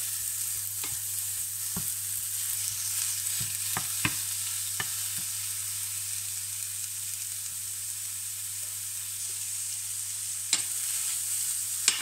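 Aubergines fry in a pan with a steady, soft hiss of sizzling oil. Sparse scraping clicks come through as they are stirred, with a sharper knock near the end.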